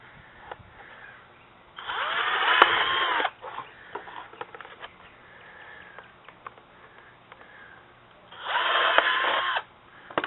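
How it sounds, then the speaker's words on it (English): An electric drill bores holes into a metal coffee can in two loud whining bursts separated by quieter handling clatter and small knocks. "Now, I'm going to drill me a couple more holes to give room for the fly"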